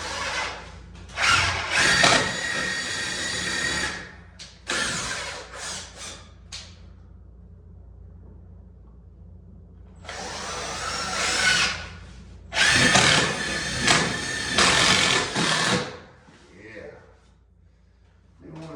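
A power drill whirs in several bursts, pre-drilling into wood structure for HVAC vent cover trim high up, with pauses between runs; some handling noise between bursts.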